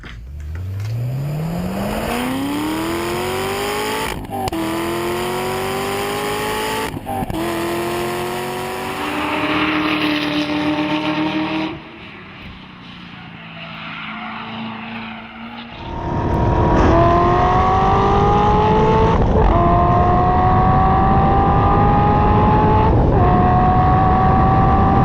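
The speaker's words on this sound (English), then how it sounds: "that's absolutely the C6 Corvette Zr1" A Chevrolet C6 Corvette ZR1 engine revs hard through a series of rising pulls and gear changes, loud and close, with a brief quieter stretch before it roars back in with sustained high revs.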